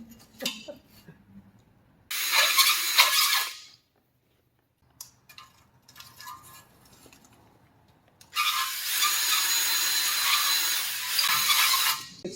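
A power hone cuts a rusty Slant 6 engine cylinder in two loud, harsh whirring bursts with a quiet gap between them, close by, with a few faint clicks and knocks from handling in between.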